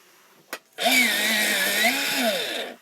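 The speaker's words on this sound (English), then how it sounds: "I'm going to sharpen it. You're going to hear a grinding noise." Faber-Castell Scarlet Red colored pencil in an electric sharpener: after a short click, a loud, close grinding whir runs for about two seconds, its pitch wavering as the pencil is pushed in, then stops abruptly.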